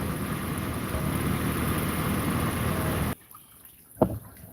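Coolant running out of a truck radiator after a Blue Devil flush, a steady liquid wash that stops abruptly around three seconds, leaving near silence broken by one brief knock.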